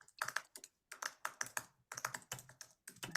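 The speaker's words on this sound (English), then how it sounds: "I'm typing here." Fingers tap on a computer keyboard in quick, uneven bursts of crisp clicks with short pauses between runs, close and fairly quiet, with no talking.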